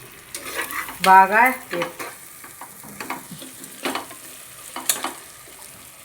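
Frying in a pan with stirring, a soft sizzle under scraping spoon strokes, interrupted by a brief spoken word and a short bright tonal squeak near the start.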